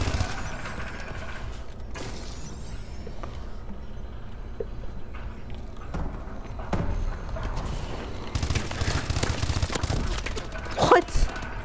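Bursts of gunfire in the Call of Duty: Advanced Warfare video game, with scattered shots and mechanical clicks over steady background noise. Several louder bursts cluster toward the end.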